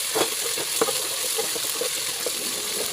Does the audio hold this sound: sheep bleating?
no